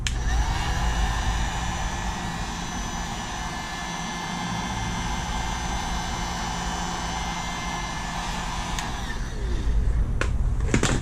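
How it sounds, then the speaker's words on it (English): Heat gun blowing hot air over the edges of Laminx protective film on the projector headlights of a 1999 Pontiac Grand Prix, a steady close-up roar lasting throughout, with a faint click near the end. "I'm just going to heat up my edges real quick."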